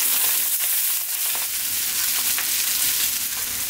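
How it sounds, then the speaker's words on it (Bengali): Onions fry in a pan for a Bengali-style egg curry, giving a steady, fairly loud crackling sizzle with soft stirring scrapes throughout, no voices. "হ্যাঁ দেখেন যে পেঁয়াজগুলো এখন ভাজি ভেজে হয়ে গেছে"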